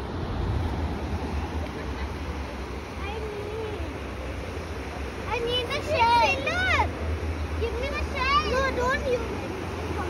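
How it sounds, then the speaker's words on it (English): Ocean surf washes steadily onto a beach where a sand castle is being built, with a constant broadband roar of breaking waves running beneath a child's high-pitched chatter and exclamations. "Now big waves start coming."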